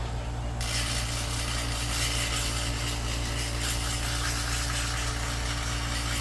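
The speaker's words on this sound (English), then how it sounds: "So we're gonna get a little sander back. We're gonna sand it." A small power sander works over a broken 3D-printed part, giving a loud, steady grinding whir that starts abruptly and runs continuously with no talk.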